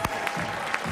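A crowd at the 2013 Earl Anthony Players Championship bowling title match claps in a dense, steady burst of applause, loud and close, with a few sharper claps standing out.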